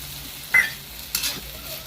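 A splash of water hits a pan of cooking red amaranth greens with carrots and potatoes, giving two short, close bursts of sizzle and stirring, the second brighter and hissier.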